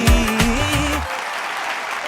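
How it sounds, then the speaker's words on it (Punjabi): A studio audience at a televised talent-show performance claps as a sung, tonal note fades out over the first second, then the applause carries on alone, gradually thinning. "ਜ਼ੋਰਦਾਰ ਤਾੜੀਆਂ"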